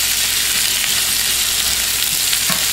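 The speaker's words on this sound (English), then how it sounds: "I will be using this iron skillet to cook my steak in as well" A steak sizzles loudly and steadily in an iron skillet, with dense, continuous frying crackle close up. Faint pops rise above it, and no voices are heard.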